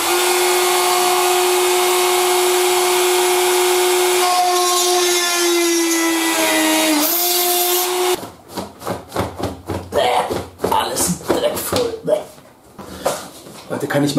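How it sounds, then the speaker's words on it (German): A 2.4 mm HSS drill bit spins at high speed through aluminium sheet, giving a loud, steady close-up whine with a rough grinding edge. The pitch sags briefly before it stops after about eight seconds, and then someone talks. "Hohe Drehzahl, vernünftiger HSS-Bohrer."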